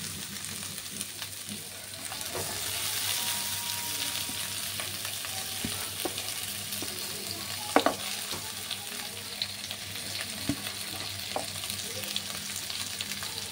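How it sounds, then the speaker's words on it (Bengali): Coated okra sizzles in warm oil over a low flame, a soft steady hiss and crackle throughout with a few faint clinks of a spatula stirring, no voices. "এবার এই মাখা ঢেঁড়সগুলো এর মধ্যে দিয়ে দেব।"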